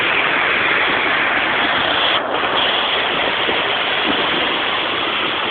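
Water gushing from a waterfall-style tap into a bubble bath, a loud, dense, unbroken rushing roar close by.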